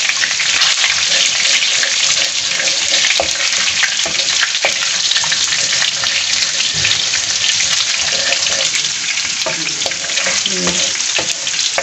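Cumin seeds roast in hot oil with a loud, dense, continuous sizzle and crackle, close up, with occasional light stirring taps throughout.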